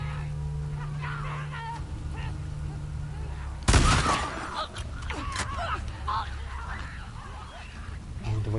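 Shotgun fire in The Last of Us Part 2, one loud close blast cutting through busy game sounds and a voice talking throughout.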